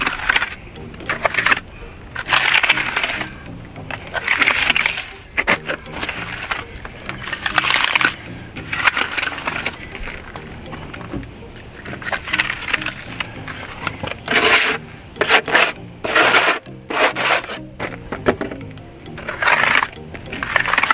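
A broom sweeps in repeated scratchy strokes across a freshly parged cinder block wall, bursts of bristle scraping in an irregular rhythm, close and moderately loud, with brief pauses between passes.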